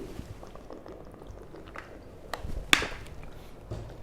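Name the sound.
pouring and drinking water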